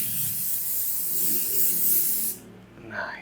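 An aerosol spray can sprays paint onto an RC motorcycle in a long, loud, continuous hiss that cuts off sharply. A faint clatter follows.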